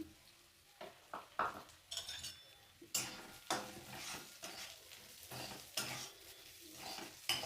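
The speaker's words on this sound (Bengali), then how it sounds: "ভালোভাবে ডালটাকে একটু ভেজে নেব" Moong dal frying in hot oil while being stirred, with a utensil scraping and clinking against the pan in irregular bursts over a steady close sizzle; no talking.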